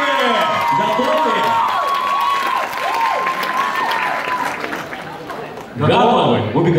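Loud crowd applause and cheering fill the space at a live skit performance in Zheleznodorozhny, Moscow, with shrill children's shouts rising over the clapping and a fresh burst near the end.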